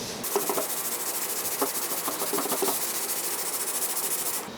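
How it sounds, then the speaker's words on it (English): Hand sanding the veneer of a 1979 Thomasville end table with 320-grit paper on a block, a continuous close rasping hiss with rhythmic back-and-forth strokes. "I'm going to sand this piece down with 320 to start, and I'll do it on a block"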